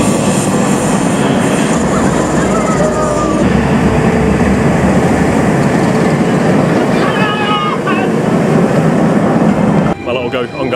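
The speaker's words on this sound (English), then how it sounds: "My little go on Galactica without the VR goggles and without Stevie" The Galactica roller coaster train at Alton Towers, a loud, continuous rumbling roar of wheels on track heard close up from the front row, with wind noise and brief voices mixed in.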